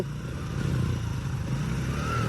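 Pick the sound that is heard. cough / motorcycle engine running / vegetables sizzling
motorcycle engine running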